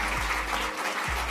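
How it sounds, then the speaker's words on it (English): An audience and panelists at a clinical research panel applaud in a steady, fairly loud burst of clapping that fills the whole short moment, with a low hum running beneath. "Can we give a huge round of applause for our audience"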